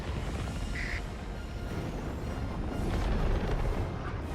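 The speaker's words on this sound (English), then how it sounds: "I got 16 with that hell bomb" Hellbomb detonation in the video game Helldivers 2, a sustained loud rumbling roar with dense low-end noise that swells toward the end, plus a brief quacking tone early on.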